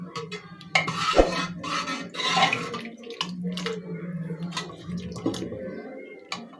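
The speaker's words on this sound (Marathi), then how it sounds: "तडका टाकला की आपण छान मिक्स करून घ्यायचा आहे" A spoon stirs freshly poured tempering into a pot of sambar, giving a run of scraping clinks and soft liquid sloshes at close range, with a faint voice underneath at times.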